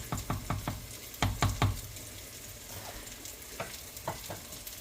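Rice cooking in water in a pot as it nears a rolling boil: a steady bubbling hiss broken by a few quick clusters of sharp clicks and knocks near the start, then scattered softer pops.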